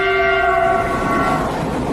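China-Europe Railway Express freight train on the tracks, a loud, close, steady rumble with a sustained horn-like tone fading out over two seconds, no voices.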